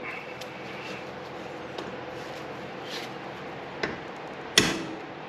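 A part is hammered into place during an RB26 engine teardown with individual throttle bodies, in a workshop. Faint light taps come first, then one sharp, loud strike near the end stands out over quiet background noise.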